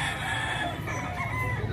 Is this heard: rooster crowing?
yes